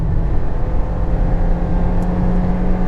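A Volkswagen Golf GTI at full throttle on a flying lap makes a steady, loud engine drone heard from inside the car, holding a constant pitch throughout without pause.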